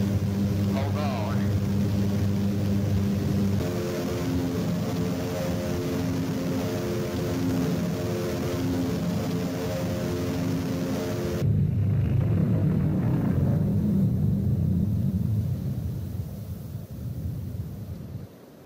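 Aircraft in the Doom mod Cold As Hell, a heavy engine drone with harmonic whine that cuts abruptly into a rough rumbling crash landing, then fades away, with speech partly over it.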